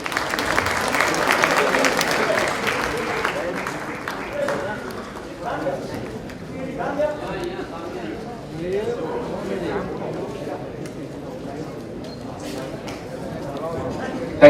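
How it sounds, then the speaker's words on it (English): An audience at the Giants International 44th anniversary award night applauds for Deepika Padukone. Clapping is strongest for the first few seconds, then thins and carries on more softly under murmuring voices. "a warm round of applause for Deepika Padukone"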